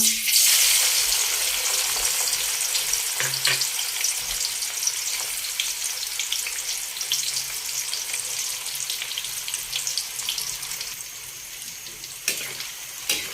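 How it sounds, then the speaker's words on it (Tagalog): Tofu fries in hot oil in a pan, a loud steady sizzle that is strongest at the start and eases slowly, with a few light knocks of stirring and no talk. "Piprito na po natin itong tokwa."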